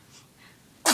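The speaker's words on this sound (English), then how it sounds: "That was an angry sneeze." One sudden, sharp sneeze, probably from a dog, bursts loudly at the very end after quiet breathing.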